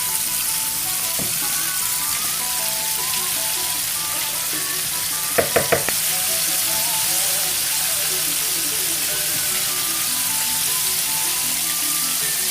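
Chicken nuggets frying in hot cooking oil produce a continuous crackling sizzle, with a brief cluster of sharp clicks midway and faint tonal background hum.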